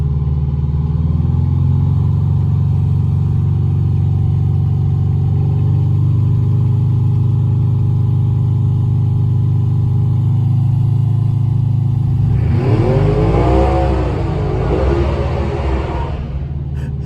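A 1977 MCI MC8 bus's Detroit Diesel 8V71TA engine rumbles steadily at a deep idle for a long stretch, then revs up hard near the end before settling back.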